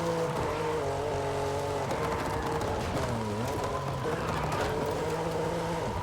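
Game engine of a 2023 BMW M2 in Forza Horizon 5 revving and shifting through corners, a steady close engine drone with rising and falling pitch and brief tire squeal, no talk.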